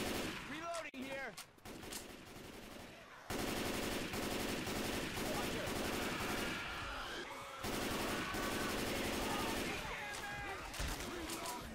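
Rapid automatic weapon fire from the Left 4 Dead 2 survival map, loud sustained bursts broken by short gaps, with voices and other game sounds mixed in.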